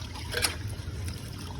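Water trickling steadily through a drain that has just been cleared of a blockage, a soft continuous dribble heard up close with no voices.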